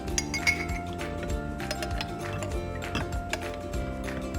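Glasses clink and tap against each other and a serving surface while chilled rabri milk is poured, a series of light, close, irregular chinks over a quiet background.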